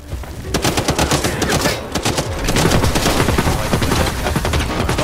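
Gunfire rattles through a video game firefight, dense loud bursts of rapid shots overlapping almost continuously, with heavy automatic fire and sharp cracks throughout.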